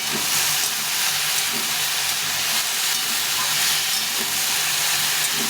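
Vegetables for a vegetarian curry fry in a little oil with salt and turmeric powder, giving a loud, steady, close hiss that runs unbroken with no talking.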